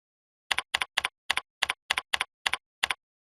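Short bursts of typing on a computer keyboard, about nine quick double-clicked keystroke groups in a steady rhythm, close and clear against silence.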